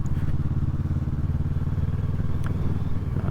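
A 2007 Kawasaki ER6N motorcycle rides along small country roads, its engine a steady, loud, close low drone with faint clatter, running without pause and with no talk.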